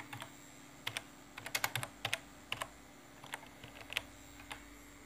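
Typing on a computer keyboard into a search field, quiet close-up keystrokes arriving in short irregular bursts with pauses between.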